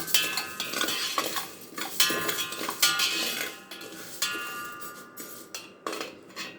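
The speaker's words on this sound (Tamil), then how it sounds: "ஆட் பண்ணி நல்லா பொரியரிசி மாதிரி வறுத்துக்க போகிறோம்." Rice roasting in a hot pan on low flame while a utensil stirs it, making repeated close scraping and clinking strokes in a loose rhythm over a faint crackle.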